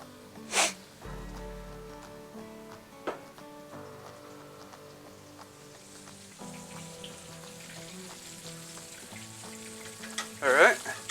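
Chicken frying in oil in a pan for a fried chicken sandwich gives a steady, close sizzle and crackle throughout, with a few sharper pops and utensil clatters standing out briefly.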